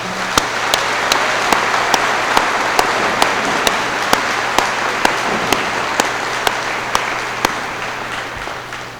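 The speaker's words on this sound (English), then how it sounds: "Let's give them a nice round of applause." Graduation ceremony audience applauding the senior class, sustained crowd clapping with a few loud, regularly spaced claps standing out near the microphone.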